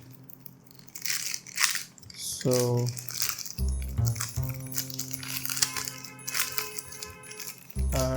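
Packaging for a 12th-generation CPU cooler being torn open by hand during a gaming PC build, with crinkling, ripping and crunching bursts up close, and a person speaking briefly over it.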